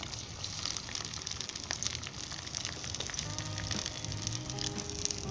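Onions fry in about five tablespoons of vegetable oil in a karahi, giving a steady close sizzle and crackle with no voices over it.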